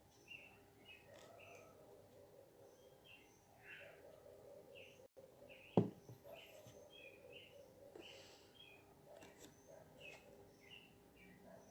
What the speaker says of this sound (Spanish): Con el canto de los pájaros.